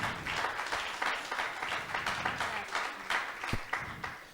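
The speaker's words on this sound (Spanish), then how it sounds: "Denle un fuerte aplauso al Señor." A church congregation claps for the Lord during a Spanish-language service, a sustained round of applause with a loose rhythmic pulse, moderately loud and steady throughout.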